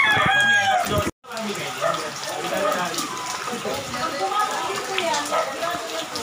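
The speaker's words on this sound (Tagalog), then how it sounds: "Grabe ang ulan o. Ang lakas pa." Dense, hissing downpour of typhoon rain fills the whole clip, with a rooster crowing at the start and a brief dropout near the beginning.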